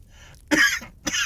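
A person coughing up close, two harsh bursts a half second apart, in a reading of Poe's tale.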